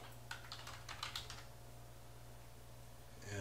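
Quiet, quick keystrokes on a computer keyboard, a short burst of taps typing into a Windows search box over a steady low hum, with no talking.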